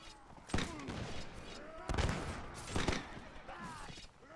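Rifle gunfire in the Mount&Blade video game, with several sharp cracks spread across the moment amid a busy battlefield din and talking voices, fairly distant and moderate.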